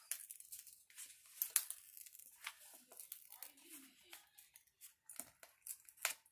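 Paper sheets from a round mandala diamond painting kit being torn and handled up close, with quiet crinkly rips and rustling bursts in uneven, scattered bursts.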